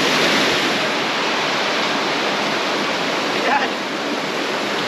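Steady roar of a waterfall in a rugged canyon near the Panamint City ghost town, a dense, even rush of falling water heard up close and filling the whole scene without a break.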